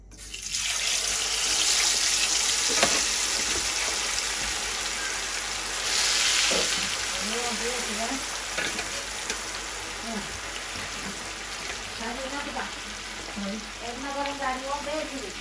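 Pond fish frying in hot oil, a broad sizzling hiss that swells and settles, with someone talking over it in the second half.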